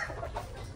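A White-legged Sweater gamefowl rooster gives a brief, soft cluck close by, with a low background hum.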